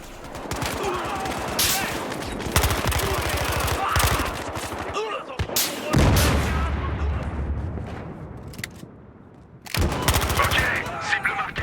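Rapid automatic gunfire and single shots from a Battlefield Hardline multiplayer match, dense bursts with booms and brief lulls, loud and close, with someone talking in French at times.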